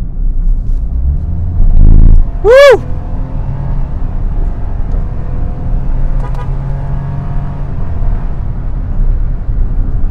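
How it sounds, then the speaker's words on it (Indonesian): A Toyota Agya GR 2025 hatchback accelerates with a steady engine rumble, then a sharp rising rev early on before it settles back into a lower drone. No one speaks. "Kita coba tarik lagi mobil"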